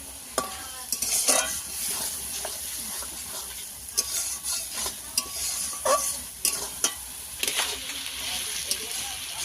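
Spice paste for a country chicken curry fries in hot oil with a continuous close sizzle. A spatula stirs it in repeated scraping strokes against the pan.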